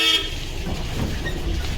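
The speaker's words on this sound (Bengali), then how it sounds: "রাস্তার ধারে তো গাড়ি যাচ্ছে" Road traffic rumbles past nearby, opening with a short car horn toot, then a steady low vehicle noise.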